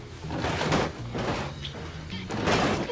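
Cars smashing up in BeamNG, with repeated heavy crunching impacts and rumbling metal collisions in bursts, loud and close, with some faint speech in the background.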